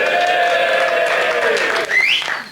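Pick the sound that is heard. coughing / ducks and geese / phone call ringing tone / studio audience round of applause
studio audience round of applause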